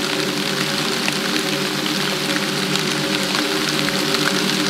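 Steady rain falls outdoors beside a large wall near water, a dense continuous hiss of drops with a faint engine-like hum underneath, loud and close throughout without speech.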